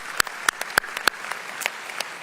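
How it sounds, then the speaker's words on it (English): A handful of scattered, distinct claps ring out at a county State of the County address, sparse and uneven rather than a full ovation. "Let's give them a big round of applause,"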